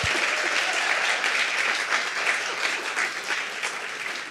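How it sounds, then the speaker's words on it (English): A full audience applauds steadily throughout, broad dense clapping that stays loud from start to finish at a book memoir talk event, with no voices breaking through. "can we just also give her a round of applause?"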